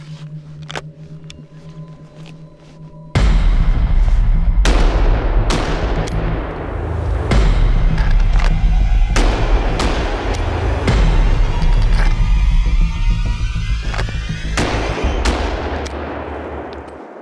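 Loud, sharp rifle shots from a double rifle fired at driven wild boar outdoors, cracking off one after another in quick succession over a steady rumbling background, with several reports close together.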